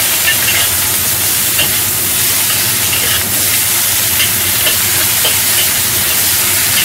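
Choy sum stir-frying in an oiled wok with minced ginger, a loud steady sizzle and hiss with scraping stirs throughout, close and without talk.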